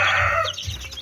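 Eleven-day-old chicks peep in short, high, close chirps, one bright call followed by quieter overlapping cheeps over about a second, with no speech.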